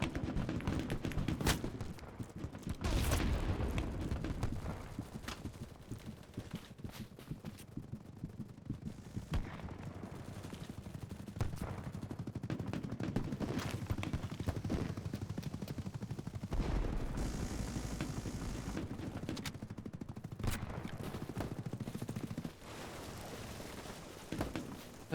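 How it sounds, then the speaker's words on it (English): Video game gunfire crackles in rapid automatic bursts and scattered single shots across a busy firefight, loud and dense throughout with occasional heavier blasts. "Some dude in here is shooting people and I don't like it."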